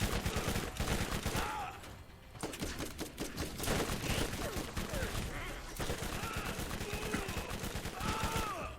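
Rapid bursts of gunfire in Borderlands Remastered multiplayer, repeated fast shots in short volleys with brief pauses, loud and close, with someone talking over parts of it.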